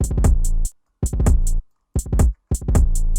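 Deep, booming 808 bass notes in short repeated phrases, each starting with a punchy attack and separated by brief silences, no voices.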